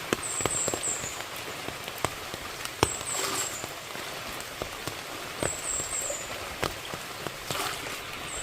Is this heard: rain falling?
yes